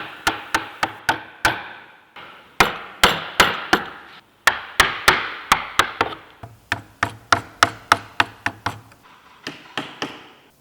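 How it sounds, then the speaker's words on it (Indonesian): Sharp, evenly spaced taps of a line chisel struck by a mallet while carving lines into a wood wall panel in a Lampung motif, about thirty distinct knocks close and clear in short runs with brief pauses. "Buatlah pahatan garis-garis sebagai isian bidang ukiran yang lebar sehingga memperkuat karakter motif dengan pahat coret."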